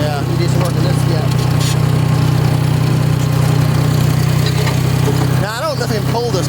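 An older tractor engine idles in a steady, loud, even drone, with a person talking over it near the end.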